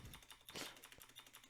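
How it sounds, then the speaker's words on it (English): Enter key on a computer keyboard struck repeatedly, a quick run of crisp clicky taps close to the microphone, fairly quiet. "I'd rather hit enter a bunch of times."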